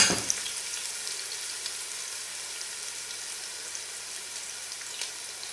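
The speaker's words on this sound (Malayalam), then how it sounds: "ഇനി ഇതിലേക്ക് എടുത്തു വെച്ചിരിക്കുന്ന വലിയ ഉള്ളി ചേർത്ത് നന്നായി വഴറ്റിയെടുക്കാം." Large onions sautéing in oil in a home kitchen pan for kabiri rice, giving a soft, continuous sizzling hiss that starts slightly louder and then settles into an even crackle with no talking.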